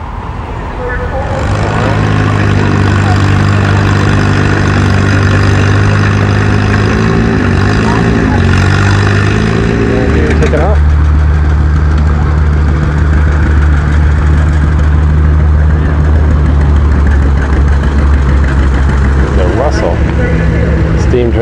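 An antique engine runs at a steam show, the Tuscarawas Valley Pioneer Power Association's 40th annual show, beside a Case engine, giving a steady loud low rumble throughout with a shift in tone about midway, and people talking nearby.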